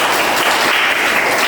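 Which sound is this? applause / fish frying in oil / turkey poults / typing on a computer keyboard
applause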